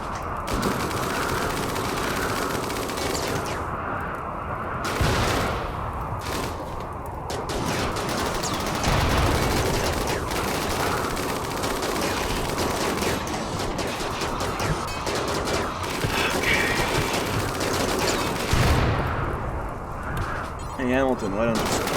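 Video game gunfire in Rimworld, repeated bursts and volleys of shots mixed with explosive thuds running throughout, layered with game music and effects at a steady loud level.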